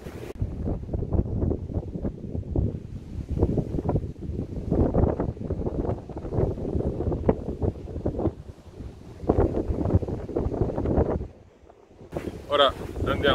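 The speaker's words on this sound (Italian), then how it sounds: "come al solito qui soffia il vento" Strong outdoor wind buffets a smartphone's built-in microphone with no external mic attached, producing loud, rumbling, gusty blasts that rise and fall throughout, briefly easing near the end.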